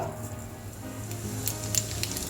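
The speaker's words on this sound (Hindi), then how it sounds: "अब मैं तेल में डालूंगी थोड़ा सा जीरा" Cumin seeds sizzle in hot oil while making a vegetable dish, a steady close frying hiss with small crackling pops growing slightly livelier toward the end.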